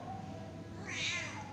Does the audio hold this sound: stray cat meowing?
yes